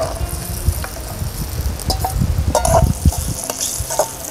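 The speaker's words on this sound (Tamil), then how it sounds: "இந்த கஜுவை நாங்கள் இந்த நெய்யில் பொறிச்சிட்டு தான் நல்ல வாசம் பெறும்." Cashews fry in hot ghee in a pan, giving a soft sizzle with scraping and stirring clicks scattered throughout, close up and fairly loud, with no talking.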